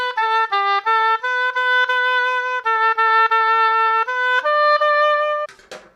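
A solo oboe plays a slow, reedy melody of sustained notes, clear and close, ending with a brief rustle.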